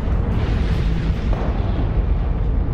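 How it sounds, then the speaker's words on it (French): A documentary sound effect of explosions on the Sun: a continuous, heavy roaring rumble, loud and dense with low booming energy, sustained without a break and with no speech. "ces déchaînements d'explosions solaires ont des causes magnétiques"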